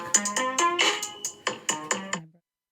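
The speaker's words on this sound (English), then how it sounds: "calling me in the middle of my show. I'm gonna have to turn off my ringer there." A mobile phone ringtone for an incoming call plays during a live acrylic painting session: a short run of bright, plucked melodic tones in quick succession, fairly close and alone, stopping abruptly.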